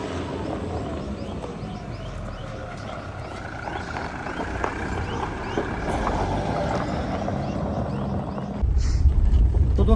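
A Toyota Fortuner 3.0 with a repaired turbo drives on a test run, its steady broadband engine and road rumble continuing throughout with some wind noise, growing slightly louder near the end.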